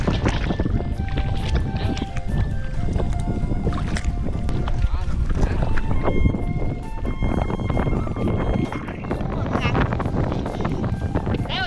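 A fishing boat's engine runs steadily as it heads toward a fish landing area after the nets are hauled in, a continuous loud rumble mixed with wind buffeting the microphone and water sloshing, with voices over it.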